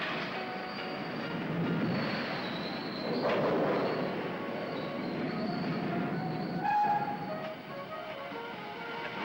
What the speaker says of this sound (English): At the plant, the train enters the ore dumper.